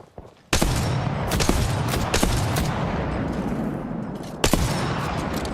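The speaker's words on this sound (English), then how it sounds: "Distant shots coming in." Gunfire in an Apex Legends tournament match comes in sudden bursts of sharp shots with roomy, rumbling tails and a steady background roar, and a fresh volley lands near the end.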